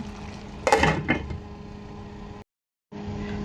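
A lid set onto a pot of chicken feet cooking with sugar, giving a short clattering metallic clink and rattle, then a steady low simmer hum that briefly cuts out.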